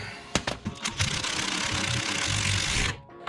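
An impact wrench hammers on truck suspension bolts of an OBS Ford, a few sharp knocks and then a steady loud buzzing rattle for about two seconds before stopping.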